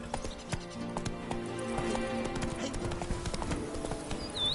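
Roach the horse's hooves clip-clop steadily in Witcher 3's Blood & Wine, a close, rhythmic trot of many quick hoof falls with a brief whinny-like sound near the end.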